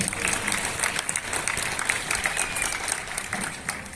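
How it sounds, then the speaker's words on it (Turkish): Audience applause at a short film festival gala and awards ceremony, sustained dense clapping from a large crowd welcoming a minister onto the stage, steady and fairly loud throughout with faint voices beneath. "Sayın Bakanımızı ödül açıklamak için alkışlarınızla sahneye davet etmek istiyorum."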